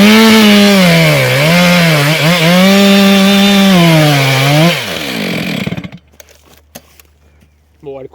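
Chainsaw cutting into wood at a logging site, a loud close whining engine tone with rising and falling pitch for several seconds, then cutting off to quiet with a few clicks and faint sounds.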